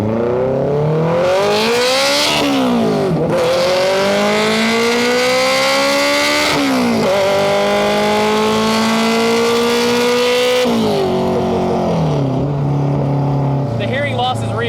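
A K24-swapped Honda mini-truck, all-motor with all-wheel drive, screams close and loud, its revs climbing again and again to very high RPM with brief drops between pulls.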